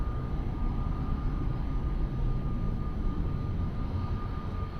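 An aircraft engine roars steadily at Lisbon Airport, a broad, continuous low rumble with a faint high tone, distant and unchanging, with no speech.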